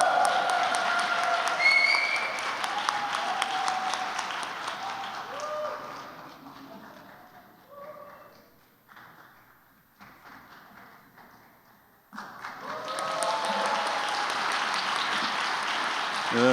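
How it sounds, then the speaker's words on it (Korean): An audience at a Korean university celebration for a professor applauds at length. The dense clapping fades to sparse scattered claps partway through, then swells back to full strength near the end. "우리는 큰 박수로"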